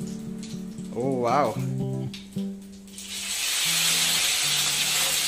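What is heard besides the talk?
curry leaves added to hot oil, sizzling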